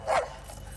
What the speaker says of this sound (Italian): Antipatico questo cane.